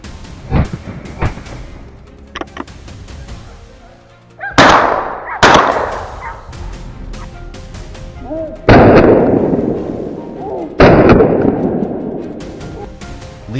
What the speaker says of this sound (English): Leon quietly raised his rifle, tracking every step it took and squeezed the trigger. One clean shot